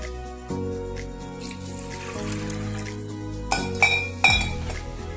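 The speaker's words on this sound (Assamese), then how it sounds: "এতিয়া মই ইয়াত আন্দাজ মতে পানী দিম" Water is poured over chickpeas into a metal pressure cooker with clinks of cookware, the stream sounding close and steady before a few sharper clanks near the end.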